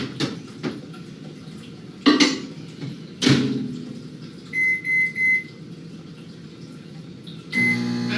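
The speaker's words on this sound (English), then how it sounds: "I start my microwave" Kitchen clatter and a few sharp clunks give way to a microwave's electronic beeps, after which a low hum starts up.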